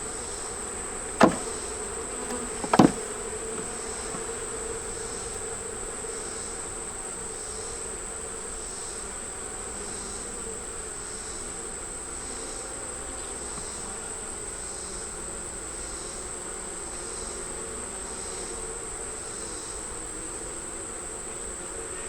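Bees hum steadily around beehive frames during a hive inspection, a continuous even drone with two sharp knocks early on and no talking.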